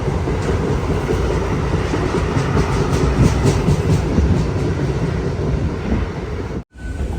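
A commuter train headed to Bengaluru airport near Yelahanka gives a loud, steady, close rumble with faint rhythmic wheel clacks, then cuts out briefly near the end.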